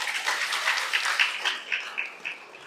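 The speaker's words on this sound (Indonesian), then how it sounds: "tepuk tangan" Congregation clapping for the choir at a Catholic wedding mass, a moderate patter of hands with a few sharper claps standing out, fading gradually over a few seconds.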